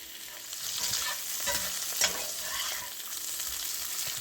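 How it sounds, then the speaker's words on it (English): Andouille sausage pieces sizzle steadily as they brown in hot oil in a pan for gumbo, with occasional scraping and stirring sounds over the frying. "I'm going to brown those sausage pieces."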